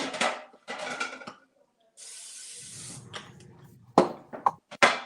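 Cooking oil sprayed from a can onto a sheet pan, one steady hiss lasting about a second, with brief talk before it and clattering pan handling after.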